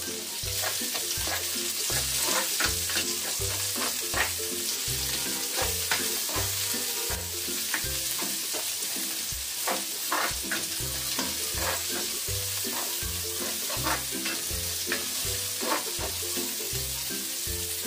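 Onions sauté in a pan for pork pochero, in oil where vegetables were fried first, a steady loud sizzle punctuated by rhythmic scraping and tapping of a spatula against the pan throughout.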